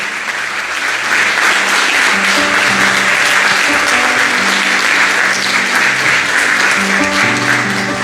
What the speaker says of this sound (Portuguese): As palmas engrandecem o nome dEle.